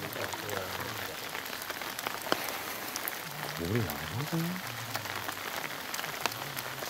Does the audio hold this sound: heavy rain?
yes